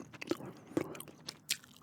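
Gum chewing right at the microphone, a few soft wet bites and crunchy clicks spaced irregularly in quiet surroundings.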